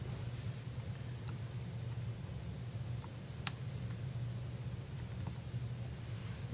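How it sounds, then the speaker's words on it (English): Soft, sparse typing on a computer keyboard while setting text for a portfolio spine label, a few faint key clicks scattered over a constant low hum. "I can either set my type here and begin typing."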